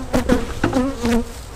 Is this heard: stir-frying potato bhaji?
no